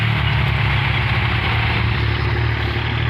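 Tractor engine with a loud exhaust, working in a wet field ploughing straw into the soil, runs with a steady low chugging rumble, close and continuous with no voices.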